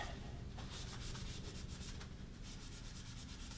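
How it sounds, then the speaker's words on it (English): Brillo pad scrubbing dirty Jeep Cherokee engine parts, quick repeated rasping strokes close up and fairly quiet, with no talking. "Just gonna take a Brillo pad, go over them quickly, just kind of clean them up."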